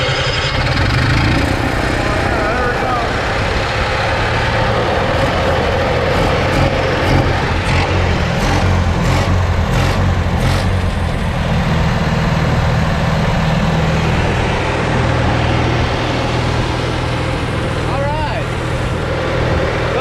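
A Barth luxury motor home's engine runs steadily on fuel from a makeshift supply, a continuous low rumbling idle close by that holds throughout, with faint voices beneath it.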